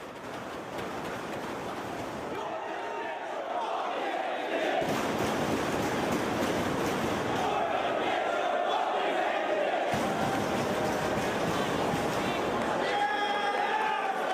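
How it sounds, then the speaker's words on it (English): A wrestling crowd of about 1,100 fans at a 2006 event boos a wrestler, a loud continuous roar of jeers that swells and dips, with a commentator talking over it. "Sanjay's milking it, buddy, and they are booing his ass"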